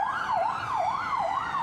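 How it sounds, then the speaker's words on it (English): An ambulance siren wails through empty, locked-down London streets during the coronavirus pandemic, its tone rising and falling in a steady, continuous cycle with no voices. "Ambulance paramedics speeding through empty streets, trying to save the lives of Britons with coronavirus"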